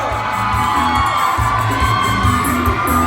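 An audience at a Thai show event cheers loudly on cue, with sustained shouting, whoops and children's high voices filling the whole stretch close by.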